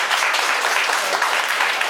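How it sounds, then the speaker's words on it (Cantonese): Steady applause from an audience of singing students at a mini concert, a dense continuous patter of many hands holding level for a couple of seconds with no voices over it. "俾啲掌聲自己先，有扮嘢嘅人"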